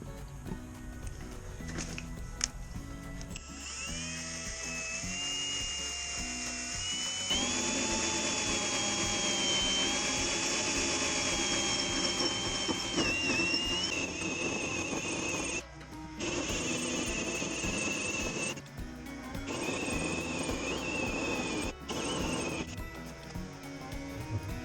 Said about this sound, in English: Now I'm drilling the hole for the faucet.